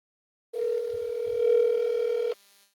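Telephone line tone heard while placing a call: one steady electronic tone holding for about two seconds, then cutting off, with no talking over it.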